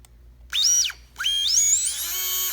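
A drone motor spins up on a test bench with a sharp high whine that rises, then drops and cuts out. It restarts and climbs to a steady shrill pitch, loud and close.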